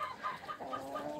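Faint, close clucking from a hen or two on a farm, a short run of soft throaty notes.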